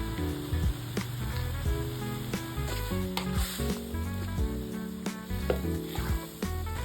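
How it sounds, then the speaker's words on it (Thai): A stuffed-egg filling seasoned with tomato sauce and chili sauce sizzles in a pan as it is stirred and fried, with steady frying crackle and repeated clinks and scrapes of the utensil against the pan throughout. "ผัดให้เข้ากันจนส่วนผสมทั้งหมดสุกทั่ว"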